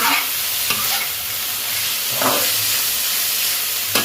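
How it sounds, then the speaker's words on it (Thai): Marinated pork stir-fries in a hot pan, a continuous bright sizzle broken by a few louder scraping stirs, close and steady throughout. "ผัดให้หมูสุกเลยนะคะ"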